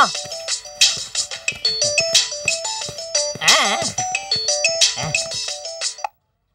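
A phone ringtone plays a repeated melodic electronic tune in short bursts, loud and close, for about six seconds before cutting off abruptly.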